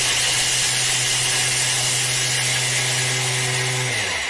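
A Thermomix mills buckwheat bread ingredients at speed 9, a loud, dense high-speed whirring that holds steady for about four seconds before winding down at the end.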